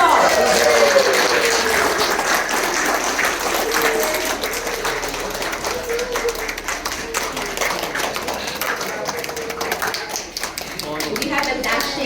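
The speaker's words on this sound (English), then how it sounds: "Please give them a round of applause." Wedding ceremony guests applauding the bride and groom, dense clapping from a crowd that fills the whole stretch with some cheering and voices mixed in.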